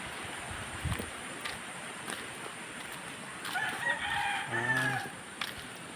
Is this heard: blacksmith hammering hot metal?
no